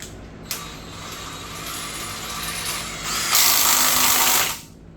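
A power tool whirs as the crank bolt is driven back into a HEMI crankshaft during an ATI Super Damper install, a sharp click followed by a sustained mechanical whine that rises in pitch, then cuts off.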